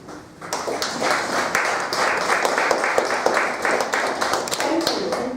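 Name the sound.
audience clapping after a poetry reading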